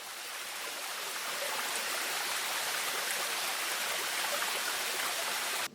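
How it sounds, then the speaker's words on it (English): Kirifuri no Taki waterfall gushes over a large black rock formation near Hiratsuka, a broad, steady rush of falling water that stays even and continuous throughout. "Kirifuri no Taki is a very uniquely shaped waterfall, gushing over a large black rock formation"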